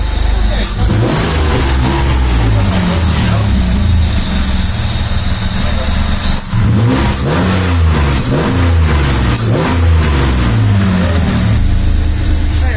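A V6-swapped Mazda MX-5 running at its first start, a loud close engine holding a rough idle and then rising and falling through several revs, with people talking over it.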